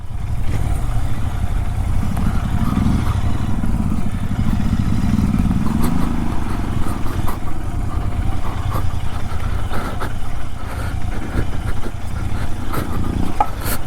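Loud, continuous engine rumble from a Royal Enfield Interceptor 650 motorcycle being ridden off-road on a trip to Anantagiri Hills, with a steady low drone and occasional clattering knocks from the rough ground and no talking.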